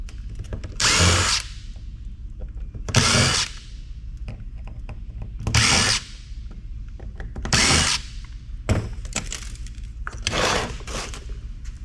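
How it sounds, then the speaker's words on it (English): A power drill fitted with a Torx bit whirs in five or six short bursts of a second or so each, removing screws from a computer hard drive, with rattling handling between them, close and fairly loud. "I keep a drill preloaded with a Torx for these hard drives."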